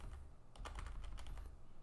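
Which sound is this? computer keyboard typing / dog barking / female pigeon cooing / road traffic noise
computer keyboard typing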